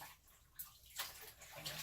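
Running water rinses an item while homemade liquid soap is being made, a steady close splashing flow with a few louder surges and no talking.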